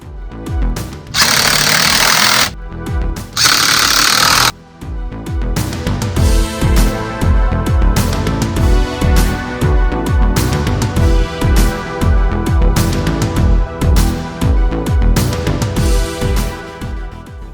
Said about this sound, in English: reinstalled the wheel and torqued the lug nuts.